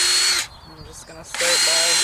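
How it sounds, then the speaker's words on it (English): A power drill boring holes while a chick grow-out pen is being built: a loud whining burst, a short pause, then the motor spins up again. "start by drilling some holes"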